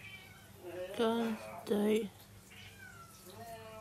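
Two loud, drawn-out cat meows close by, followed by softer meowing, with brief human speech in the background.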